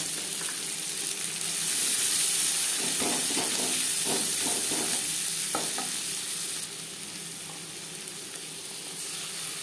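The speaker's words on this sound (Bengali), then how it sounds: "মাছ ভেজে নেওয়া তেলে দিয়ে দেব পেঁয়াজ কুচি।" Chopped onions frying in oil left over from frying fish, a loud continuous sizzle and hiss, with a short run of stirring scrapes partway through.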